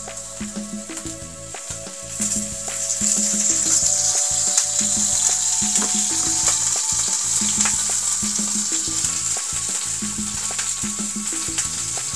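Japanese amberjack fillets frying in oil for teriyaki, a steady close sizzle running throughout and growing a little louder after a few seconds, with a faint recurring background tone and no talk.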